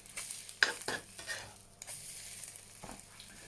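Eggs for a rolled omelette sizzle and fry in a hot pan, with scraping and tapping of a utensil against the metal in short bursts, close and fairly quiet.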